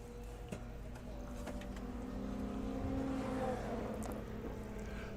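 Drag racing car at a Bug Jam drag strip event, spinning its wheels and revving, a steady loud engine drone with a rising whine, heard from a distance without talk.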